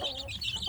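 Free-range village chicks cheep repeatedly, high thin peeping calls close by in a quick continuous series with a low background hum.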